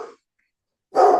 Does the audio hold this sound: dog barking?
yes